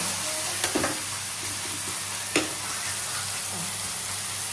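Ginger garlic paste sizzling as a tempering in a pan for Karwar-style prawn gravy, a steady close frying hiss with a couple of sharp spatula scrapes and taps.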